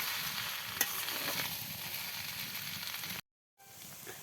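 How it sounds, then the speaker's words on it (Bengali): Boiled potatoes fried with spices in a village kitchen, a steady sizzle under repeated stirring and scraping, fairly close, briefly cutting out near the end. "সিদ্ধ করে রাখা আলুগুলো এখন ভাজি করে নেবে নেড়ে"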